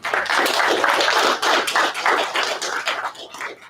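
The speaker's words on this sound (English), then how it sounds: "let's give some applause for those family and friends here as well" Steady applause from an audience at a graduation ceremony, a dense wash of many hands clapping at once, continuing for several seconds before tapering off.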